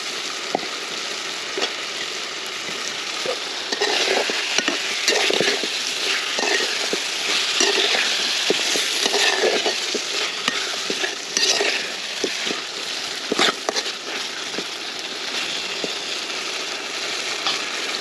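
Cut potatoes sizzle and fry in a pan for a traditional village pangas fish dish, with steady close crackling and repeated scraping stir strokes throughout, no talking.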